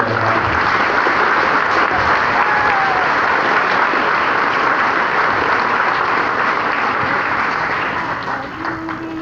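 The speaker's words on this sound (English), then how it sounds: "if we could do a warm round of applause for all the members of the readathon committee and the community" A crowd at a graduation ceremony applauds a readathon committee and community members, dense and loud clapping that runs steadily and fades slightly at the very end.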